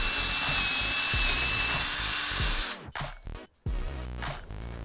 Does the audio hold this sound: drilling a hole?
yes